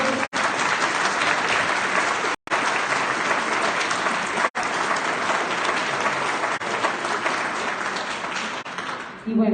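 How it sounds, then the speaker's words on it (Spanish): Sustained audience applause at an academic award ceremony for mammalogy research, dense steady clapping filling the room with two brief cuts, continuing for nearly ten seconds without talk over it. "Vamos a darles un aplauso a estos"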